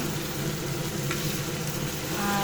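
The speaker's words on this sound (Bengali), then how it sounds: "এখন রান্না করছি এই যে ডিমের কুরমা ডিমের কুরমা করছি বন্ধুরা" Egg korma cooking in a pan, a steady close sizzle and bubbling with a faint stirring scrape, continuous throughout with no talking.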